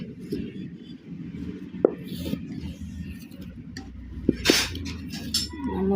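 Wheat flour dough is mixed by hand in a bowl, giving soft, continuous close-up patting and squishing with a few sharp clinks against the dish.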